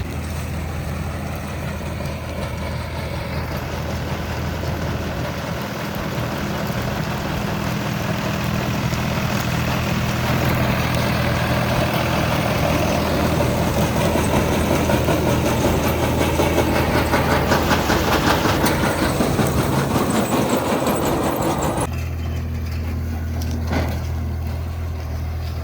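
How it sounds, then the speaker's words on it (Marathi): A New Holland tractor engine runs at a steady idle, a continuous low droning rumble held for the whole stretch, easing slightly toward the end with no talking. "new Holland tractor"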